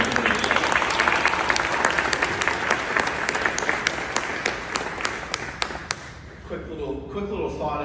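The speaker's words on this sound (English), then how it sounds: "How about another applause for that video?" Gala audience applauds steadily and loudly for several seconds, a dense wash of clapping with sharp individual claps standing out, fading near the end as a voice begins to speak.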